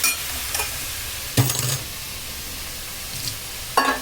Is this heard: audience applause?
no